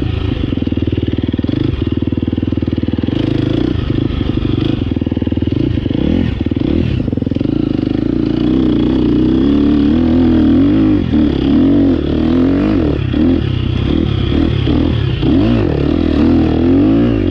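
Two 2023 KTM motorcycles ride hard with a loud, continuous engine drone, rising and falling revs and a steady roar throughout, close to the microphone with no talking.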